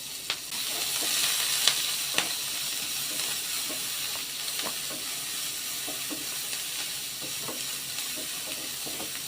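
Chopped onions and green chillies sauté in hot oil for a banana-flower thoran, a continuous quiet sizzle broken by soft, scattered stirring taps from a spoon.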